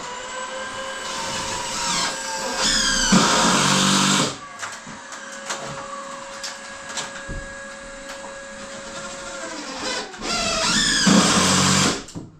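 A power drill drives screws into wood while a plasterboard wall is framed, whirring in two loud bursts separated by a quieter stretch of lighter tool noise and handling sounds.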